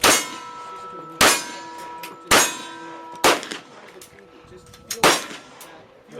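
Glock pistol rounds strike a steel target at an outdoor range, five loud metallic clangs spaced about a second apart, each ringing briefly before fading, with a quieter ping near the end.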